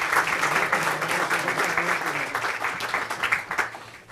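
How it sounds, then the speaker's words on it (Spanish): Warm audience applause at an academy induction ceremony, sustained clapping from a moderately sized crowd with a few louder individual claps standing out, steady for the whole stretch. "Y después de este cariñoso aplauso, gracias."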